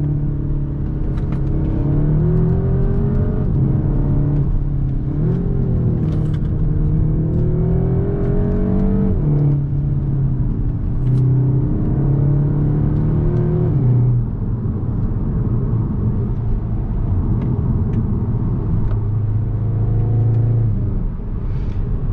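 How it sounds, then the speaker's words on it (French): A Cupra Leon ABT engine drones loudly and continuously inside the cabin, its note rising and falling with throttle changes, with the sound boosted through the car's speakers. "on entend énormément le moteur"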